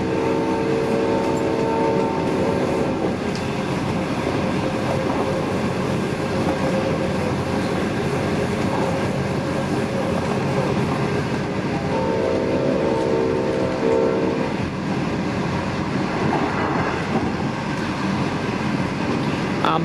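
V/Line diesel passenger train at Geelong led by locomotives N475 and N465 rumbles steadily and loudly nearby, engines droning at full power with continuous rail noise throughout.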